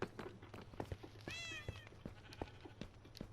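Cats aboard a ship in the Minecraft video game give a single clear meow amid soft clicks and light background ambience, fairly faint and close.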